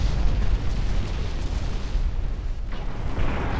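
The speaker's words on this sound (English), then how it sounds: "Got one torpedo hit on Erlachte." A torpedo strikes an enemy warship in the naval strategy game Ultimate Admiral Dreadnoughts, giving a loud, deep, rumbling explosion that lasts the whole moment with a heavy low roar.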